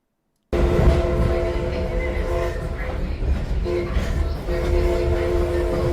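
A train in the Farming Simulator 22 video game, on a Brazilian rice farm map, rumbles steadily from the onboard view, with a sustained tonal hum and horn-like drone running throughout and no talking.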